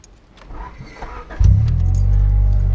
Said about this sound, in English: it has a simple startup noise, and the starter motor is pretty basic